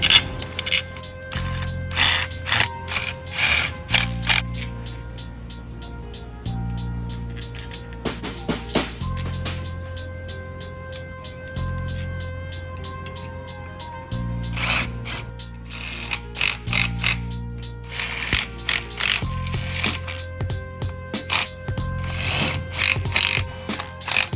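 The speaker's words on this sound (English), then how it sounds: "Now, just put all these bolts back in." A ratchet drives the lug bolts back in while new wheels go onto a Honda S2000, giving bursts of rapid clicking over steady background music.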